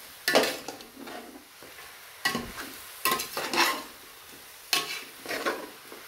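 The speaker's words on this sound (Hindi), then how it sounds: "आग तेज करके मैं इसको फिर से इस मसालों को सबको मिक्स कर लूंगा।" Spices and coriander fry in a pot over high heat while being stirred, a low sizzle under repeated scraping strokes of a spoon against the pot, close and moderately loud, coming in uneven bursts.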